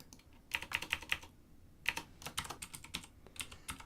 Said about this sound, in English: my keyboard is awful clicky